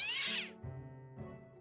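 A cat lets out a loud, drawn-out meow, then a shorter, lower second call, close and alone with no other sounds.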